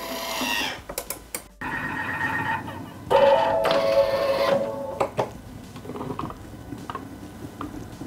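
Bimby Thermomix TM6 cooking onions on the varoma setting, counter-rotating at soft speed: mechanical clicks and beeps, then a steady whirring motor hum with intermittent rattling taps, close and moderately loud.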